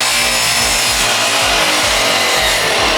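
Hand saw cutting through mahogany for an end table, a steady run of loud, rhythmic back-and-forth strokes with a rasping, close-up texture and no voices.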